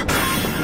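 A train rumbles along in the video game Half-Life: Black Mesa, a brief, dense, steady roar of rolling rail noise with no voices.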